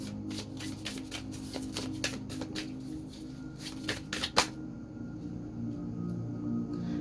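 Tarot cards shuffled by hand during a reading, a run of quick crisp riffling snaps for about four seconds ending in one sharp slap, then quiet room tone.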